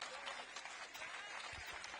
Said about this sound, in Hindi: एक बार जोरदार तालियां बजाओ भाई